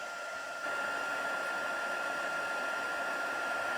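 A heat embossing tool blows hot air over embossing powder on a handmade Christmas card, a steady close whooshing hiss that jumps louder after a brief start and then holds constant.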